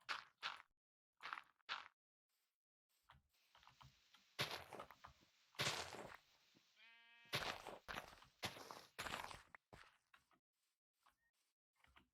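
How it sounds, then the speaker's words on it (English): A few short synthetic sheep bleats from Minecraft, sparse among clicking keys and brief quiet talk. "Oh, there's the last white sheep."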